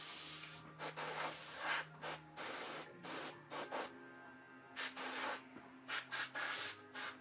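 Airbrush spraying paint in short repeated hissing bursts with brief pauses between them, close and fairly quiet, over a faint steady compressor hum.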